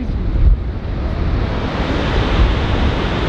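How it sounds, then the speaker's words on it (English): Strong wind by Lake Erie roars steadily and loudly into the microphone, buffeting in gusts and surges with no voices. "That wind is crazy."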